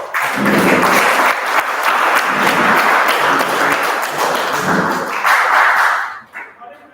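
A meeting audience gives a warm round of applause, dense steady clapping that carries on for about six seconds before tapering off.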